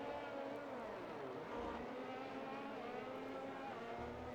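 Race cars in a video game drone steadily at a sustained engine pitch, a continuous layered whine with no voices.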